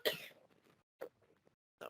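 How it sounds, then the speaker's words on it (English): Faint, muffled coughs come from a person near a microphone: one harsher burst at the start, then two shorter coughs separated by brief silences. "Sorry, I'm going to cough."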